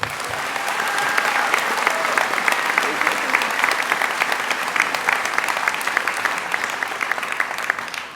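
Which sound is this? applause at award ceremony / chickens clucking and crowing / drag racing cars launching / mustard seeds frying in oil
applause at award ceremony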